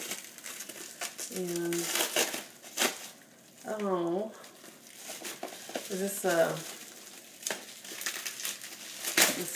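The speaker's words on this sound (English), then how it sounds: "So it comes wrapped in this bubble wrap." Bubble wrap crinkles and crackles steadily as a package holding a nail polish bottle is unwrapped, close and continuous, with someone talking over it.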